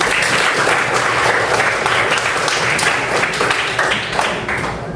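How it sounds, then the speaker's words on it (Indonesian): Classroom applause, a loud burst of many hands clapping together at close range, continuous and dense for about five seconds before easing slightly at the end. "Tepuk tangan untuk kalian semuanya."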